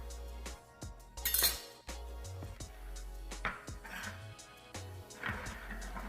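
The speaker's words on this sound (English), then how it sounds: "as we cut through, our eggplant is still holding on there at the bottom" A knife cuts through eggplant on a cutting board, giving a series of sharp close taps and light clinks at uneven intervals, with quiet room sound between them.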